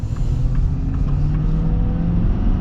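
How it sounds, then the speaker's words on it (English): A 2025 Ford F-350 Tremor diesel pickup accelerates hard with its rear tires spinning. It makes a loud, steady low engine rumble that continues without a break, with a faint whine above it and no voices. "And it is struggling for traction with those rear tires."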